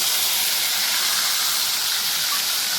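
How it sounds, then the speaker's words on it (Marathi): Chopped tomato hits hot oil with browned garlic and asafoetida, giving a loud, close, steady sizzling hiss that holds evenly throughout with no talking. "टोमॅटो जो एक कापून घेतलेला आहे तो टाकायचा"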